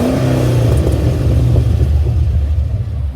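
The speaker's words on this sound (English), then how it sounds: "Right, that's a few revs for you guys." A Holden VE Commodore SSV Special Edition sedan with a six-speed manual revs its engine in a steady, loud, close rumble that holds high throughout with no talk over it.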